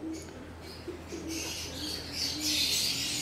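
Breeding pigeons in a loft and aviary coo faintly and continuously, with soft chirps and a little wing flutter in the background.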